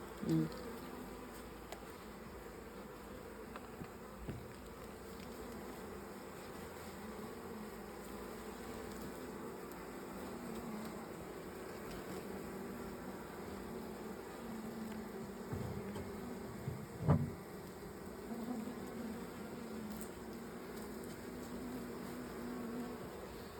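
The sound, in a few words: honey bees buzzing around hive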